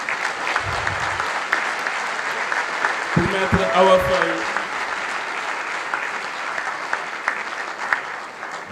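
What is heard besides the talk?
audience applause after a speech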